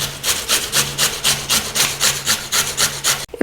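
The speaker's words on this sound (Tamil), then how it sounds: "நான் அதை வந்து சீஸ் கிரேட்டரில் துருவிக்கிறேன்." Sweet potato rasped against a cheese grater in quick, even back-and-forth strokes, about a dozen scratchy passes heard up close with no talking.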